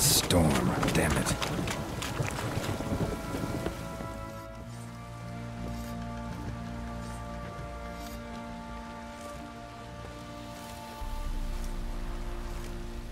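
Rain falls steadily in a storm near a swamp in The Witcher 3, a video game, a soft hiss with a deeper rumbling swell near the end, following a brief louder burst of sound at the start.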